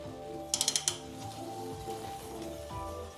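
A tool loosening a bolt on a bicycle disc brake caliper gives a quick run of about five sharp ratcheting clicks early on, over a steady tonal background.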